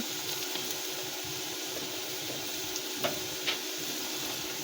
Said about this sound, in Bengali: আমাদের পেঁয়াজগুলো লাল লাল করে ভাজা হয়ে গেছে এবার আমরা রসুনটা দিয়ে দেব